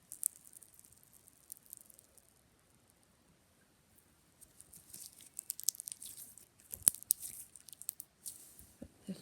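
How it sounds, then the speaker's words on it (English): Crunchy glitter slime is squeezed close up, giving faint, soft crackling and squishing that grows busier and louder in the second half after a quiet start. "this one's very crunchy because of the glitter."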